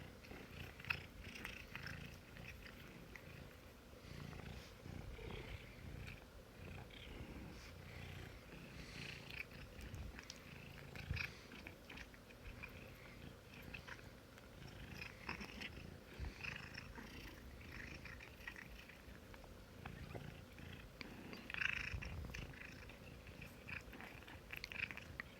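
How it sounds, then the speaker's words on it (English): A soft, continuous purr from a cat, close by, with faint wet chewing and mouthing sounds mixed in. "And she's purring and gumming."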